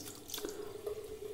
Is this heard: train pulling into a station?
no